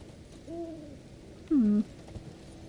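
An owl in the Elden Ring video game hoots twice, a soft first call followed by a louder, clearer second hoot, standing alone over a quiet ambient background.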